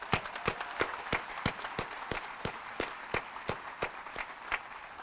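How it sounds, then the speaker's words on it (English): A single pair of hands claps in a steady, evenly spaced rhythm at a Nuclear Power School graduation ceremony, fairly close and moderately loud, with no other sound over it. "Big round of applause for him."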